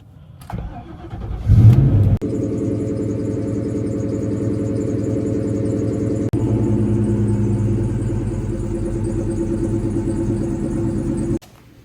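A 1998 Ford Mustang GT, just out of storage on a cold day near freezing, cranks for a moment, catches and fires up, then settles into a loud, steady, throaty idle with a light rev before shutting off.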